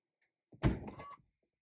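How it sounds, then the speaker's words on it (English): Driver's door of a Holden VF2 Calais opening, a single close mechanical thunk of the latch followed by a brief rattling release, short and distinct against near silence. "when I open this door"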